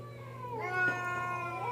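A cat gives a single drawn-out, tonal meow that rises and then falls. It is fairly faint and sits over a steady low hum, with no talking.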